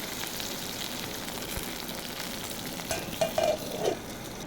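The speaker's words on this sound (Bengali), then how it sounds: "সবজিটাকে একটু ভাজা করে নেব।" Drumstick vegetables sizzling in a frying pan: an even, close crackle throughout, with louder scraping stir sounds rising briefly toward the end.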